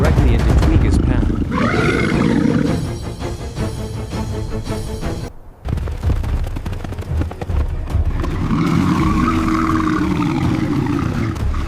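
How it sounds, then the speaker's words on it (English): A giant male lion roars loudly and deeply in the wild as it attacks a giraffe. The roar rumbles through most of the stretch, dips briefly, then returns with voices over it. "Predator roars thunderously"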